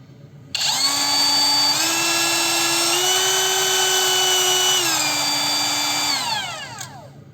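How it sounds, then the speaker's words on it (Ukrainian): ProCraft POB22 brushless edge router (trimmer) spinning up to a steady high-pitched whine, stepping up through its speeds, then winding down as it is switched off, close and loud with no talk. "і другий раз запускається сам фрезер"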